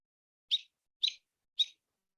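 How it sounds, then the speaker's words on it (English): Three short, bright bird chirps, evenly spaced about half a second apart, stand alone against silence. "we can hear the birds behind you."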